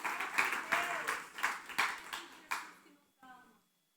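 A church congregation claps during a sermon, a few loud, uneven bursts of applause that die away quickly, followed by a short spoken phrase at the end.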